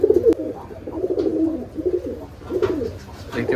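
Giribaj pigeons coo in low, rolling phrases that repeat steadily close by, each coo a soft throaty burble, with a sharp click near the start and no voices.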